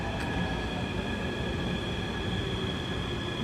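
A Dubai metro train pulls into an indoor station, its steady rumbling roll and faint high whine of wheels filling the space continuously at moderate distance.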